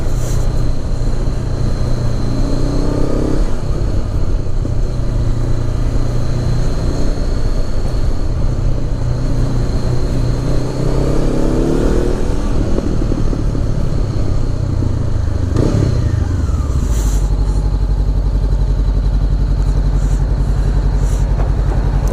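A 2016 Honda CB500X motorcycle runs on a daily commute, its engine droning loudly and continuously under steady wind rush, with pitch rising and falling through gear changes and a shift in tone near the end.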